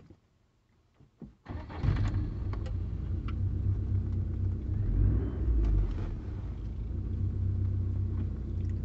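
An MG MGF sports car's engine cranks briefly and catches, then settles into a steady, close, rumbling idle that holds for several seconds with no talk over it.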